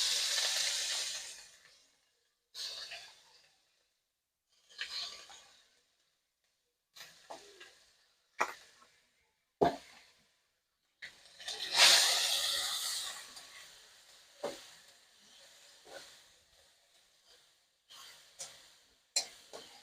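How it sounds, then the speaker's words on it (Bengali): Chopped onions hiss and sizzle in hot oil in short, sharp bursts that flare up and fade repeatedly, loud and close, with quiet gaps between. "পেঁয়াজগুলোকে হালকা লালচে করে ভেজে নেব।"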